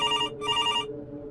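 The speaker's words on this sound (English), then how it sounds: "the kitchen phone began to ring" A kitchen telephone rings loudly with two close electronic bursts of bright, buzzing tone separated by a short gap, then fades, with no voices present.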